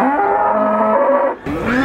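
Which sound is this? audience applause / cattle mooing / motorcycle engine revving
cattle mooing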